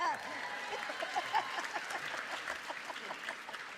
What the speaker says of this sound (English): How about a quick round of applause for Miff